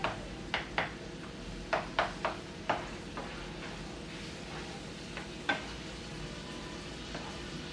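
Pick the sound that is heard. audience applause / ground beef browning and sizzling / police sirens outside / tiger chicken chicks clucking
ground beef browning and sizzling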